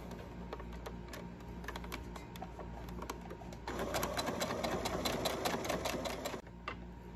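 A sewing machine stitches down a fabric patch with a steady, close, rapid mechanical chatter that becomes louder and denser midway, then eases off near the end.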